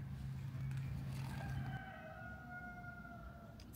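A rooster crows outdoors on a cool fall morning, one drawn-out cock-a-doodle-doo in rising then falling tones, moderately distant and fairly faint over soft background noise.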